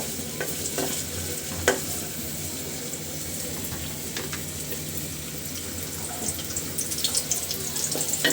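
Chopped onions frying in soybean oil in a pot, a steady close sizzle with occasional stirring clicks and a sharp knock near the start, no speech.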